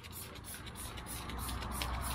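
Aerosol Professor Amos grill and oven cleaner sprayed onto a grill, a steady faint hiss with short bursts, close and alone.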